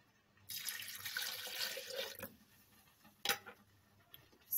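A glass of water is poured into two cups of curd in a kitchen, a steady splashing pour lasting under two seconds, followed by a sharp clink and a few small knocks.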